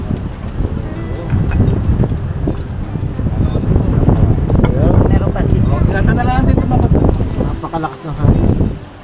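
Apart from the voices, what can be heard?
strong wind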